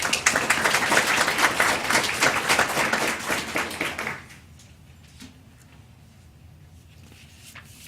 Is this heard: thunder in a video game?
no